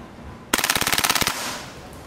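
A WE MP7 airsoft gun fires one fast full-auto burst of roughly fifteen sharp, evenly spaced cracks. The burst is loud and close and lasts under a second, with quiet room tone before and after.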